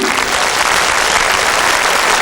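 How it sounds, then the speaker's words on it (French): A studio audience at a 1981 French children's TV singing show bursts into loud, sustained applause, a thick wash of clapping that stays even throughout. "Bravo, on t'applaudit."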